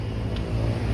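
A Suzuki Access 125 scooter, freshly serviced with its clutch cleaned after about two years of use, idles close by with a steady low engine hum and a faint odd tone, brief and unbroken.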